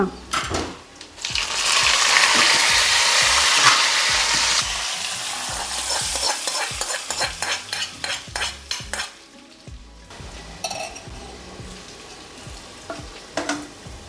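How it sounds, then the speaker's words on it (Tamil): Fish frying in hot oil sets off a loud, dense sizzle that swells, then eases. Rapid rhythmic clicking and scraping strokes follow, sounding close and uninterrupted by speech. "இதில் மீன் வறுக்க போகிறோம்."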